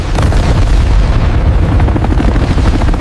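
Explosion sound effect: a continuous heavy, loud rumbling boom with dense low crackle lasting the full few seconds.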